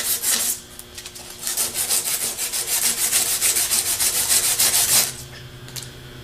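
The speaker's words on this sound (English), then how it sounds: "Put the armature in a vise and use the sandpaper to sand the short side of the shaft in a" Sandpaper rubbing an armature shaft clamped in a vise, a close, steady run of rhythmic rasping strokes that stops abruptly near the end.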